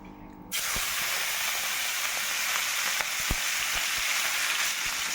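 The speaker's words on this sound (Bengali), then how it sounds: "কড়াইতে তেল দিয়ে দিয়েছি এখন আমি চিংড়ি মাছটা ভেজে তুলে নেব" Shrimp frying in hot oil in a wok, a steady close sizzle and hiss that starts abruptly and holds loud and even throughout, with a few faint clicks and no talk.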